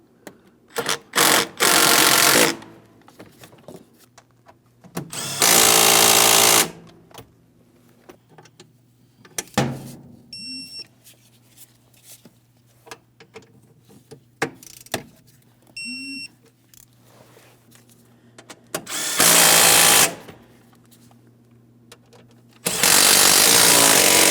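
A power tool snugs down the starter bolts on a 2015-2025 Ford Transit 250 in four loud bursts spread apart, with quiet clinks, faint beeps and rustling of work in between.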